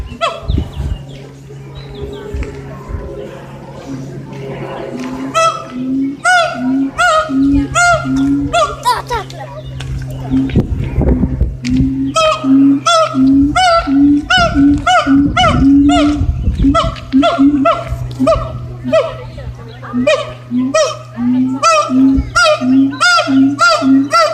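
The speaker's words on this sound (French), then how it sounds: "Si vous entendez un singe hurler, ben c'est le singe araignée" A monkey in a wildlife park, either a spider monkey or a similar species, gives a long run of rhythmic loud howling whoops that build in pace, close and dominant over a background drone.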